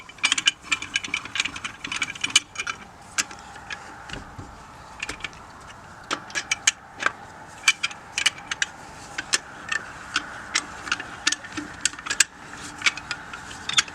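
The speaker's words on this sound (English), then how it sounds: "You put your lug nut wrench back on," A lug nut wrench tightens the lug nuts on a car wheel during a tire change, giving a run of small metallic clicks and rattles in irregular bursts, close by with no talk.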